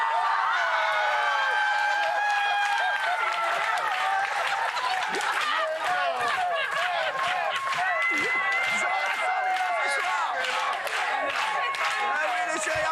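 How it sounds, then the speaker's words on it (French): A television studio audience applauds and cheers continuously, dense clapping with shouts and whoops rising over it, while a host's voice carries through the noise. "applaudissements"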